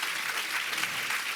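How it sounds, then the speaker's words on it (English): An audience at a book event for Wally Lamb applauds the author, a dense, steady wash of many hands clapping close and loud throughout. "clap for the brilliant one"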